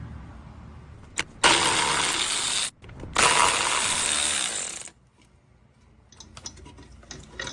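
A tool zips bolts off beneath a Cateye Silverado truck in two long, loud, close ratcheting bursts separated by a brief pause, followed by quieter clicks and shuffling.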